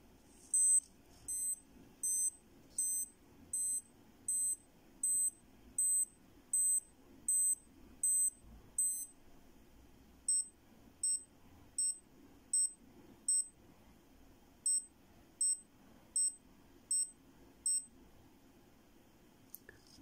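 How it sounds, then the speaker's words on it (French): A Breitling Aerospace minute repeater watch chimes the time: a run of slower high, bright tones, a short pause, then a run of quicker ones, clear and isolated over a faint background hum. "on a eu 12 signaux sonores longs et 10 signaux sonores courts, il est donc midi 10"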